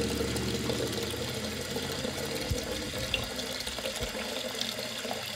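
Water runs steadily through a carbon pre-filter on a GrowoniX EX1000 reverse osmosis unit, a continuous rushing flow close by with a low hum beneath and a couple of faint knocks.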